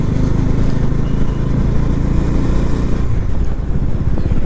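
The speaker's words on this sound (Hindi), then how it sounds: "बाइक चला दिया हमने" A motorcycle is ridden on a highway into Kanpur on a long road trip, with a loud, steady engine drone and rumble close to the mic that stays continuous throughout and then grows rougher and more broken near the end.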